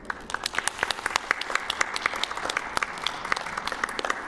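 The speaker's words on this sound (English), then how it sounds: "you're clapping about the one thing I wasn't nervous at all about" An audience applauds at a live Yoshi's Story speedrun marathon event, sustained clapping from a moderately sized crowd with many sharp individual claps, steady and fairly close for the whole stretch.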